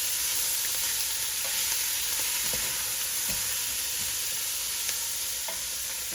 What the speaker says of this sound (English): I'm going to go ahead and add my 1/2 stick of butter in here. I'm going to let that cook for just a minute.